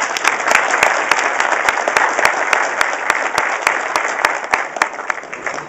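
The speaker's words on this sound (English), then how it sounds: "go ahead and clap." Sustained applause from a conference audience, dense and steady throughout, with a few sharper individual claps standing out over the broadband wash.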